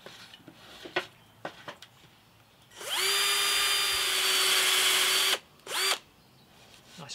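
A power drill bores a hole in pine, a loud steady whine lasting a few seconds and then a short second burst, with light handling taps and clicks before it.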